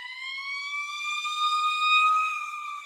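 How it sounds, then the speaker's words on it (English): An emergency siren wails past on a downtown main street in Portland, Maine, a single sustained rising tone that swells and eases as it moves by, with no voices over it. "I'm just going to pause here and let the siren go by if you can hear it."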